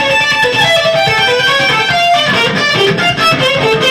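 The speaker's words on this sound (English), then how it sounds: "Let me try that again with a little more distortion." Heavily distorted electric guitar plays a continuous melodic line with sustained, overdriven notes, loud and close throughout with no voices.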